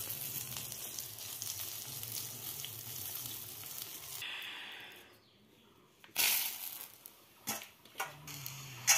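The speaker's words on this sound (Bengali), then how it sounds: "এখন মাছটা ভেজে নিচ্ছি" Fish fries in a pan with a soft, steady sizzle for the first few seconds. The sizzle then drops out, and a few sharp knocks and clatters follow.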